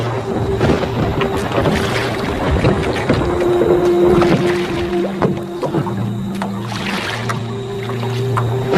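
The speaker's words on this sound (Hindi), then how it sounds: "बलबीर तेज तेज चप्पू चलाने लगा और नाव आगे बढ़ने लगी।" Oars pull a boat through a river at night in steady, repeated strokes, with close water sloshing over a low, constant hum.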